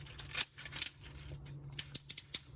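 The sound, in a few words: ratcheted knee joints of Masterminds Creations R33 Collisus Brave toy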